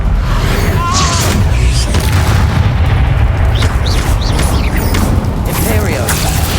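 Loud, booming bursts and crackling blasts from a fire spell in the video game Hogwarts Legacy, with rumbling low-end impacts layered over continuous combat noise and scattered magical whooshes.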